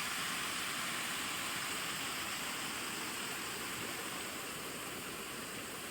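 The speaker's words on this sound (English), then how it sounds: "So here's the beauty of natural water running. The sound is so calming and peaceful." A waterfall pours in a steady, even rush of water that fills the whole stretch without pause, reached on foot along a hiking trail.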